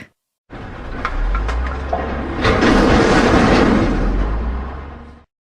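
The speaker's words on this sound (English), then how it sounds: "Dump truck." A dump truck rumbles with a heavy low engine drone, then clatters and roars louder midway as if dumping a load, steady and close with no talk.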